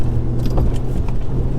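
An Audi TT 225 pulls hard in first gear on a point-of-view drive, its engine a steady, close, throaty drone from inside the cabin with faint rattles, and no one speaking.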